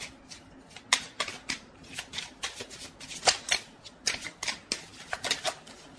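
Tarot cards are shuffled close up in quick, crisp riffling bursts and flicks, coming in uneven clusters, with no voice over them.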